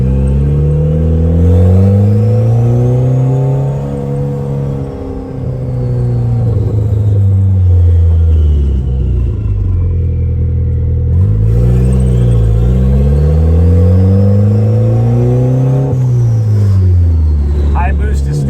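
A turbocharged car fitted with a budget boost controller revs through repeated rising and falling engine pulls with a turbo whine on top, loud and close, while people talk over it.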